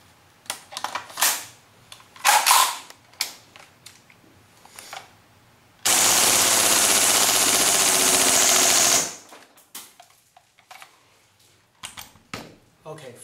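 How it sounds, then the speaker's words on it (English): A KWA KRISS Vector gas-blowback airsoft gun fires a continuous full-auto burst of about three seconds mid-clip, loud and steady, with scattered clicks and handling noises before and after. "if we fill all the BB bullet and recharge only one time of green gas, how many rounds will it fire?"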